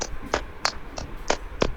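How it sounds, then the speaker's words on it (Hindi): Six crisp slaps from the soles of the feet clapping together during a yoga class, evenly spaced about a third of a second apart, close and fairly quiet, with no talk. "तलवों की ताली बजाएं"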